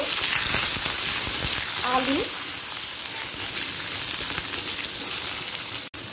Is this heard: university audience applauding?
no